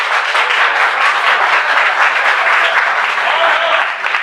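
A crowd claps in a courtroom during a trial, loud and close. The dense, continuous clapping runs without pause, and no talk rises above it.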